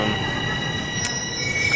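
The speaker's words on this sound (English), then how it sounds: "Gonna get on this train." Train wheels squealing on rails, a continuous high metallic screech over rumbling rail noise, loud and close as a train moves along the track.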